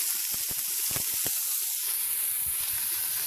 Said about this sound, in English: Sizzle sizzle with the frozen peppers